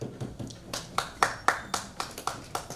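Sparse audience clapping at a poetry recital, about a dozen distinct, separate claps at an uneven, loose rhythm, fairly close and alone with no talk.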